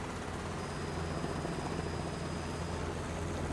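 A helicopter in a video game flight simulator, its rotor at high RPM, produces a steady loud thrumming rotor and engine drone with a faint high whine.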